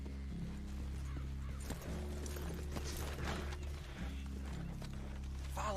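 Horse hooves clip-clop at a walk in the video game Red Dead Redemption II, quiet and uneven over a constant low droning hum.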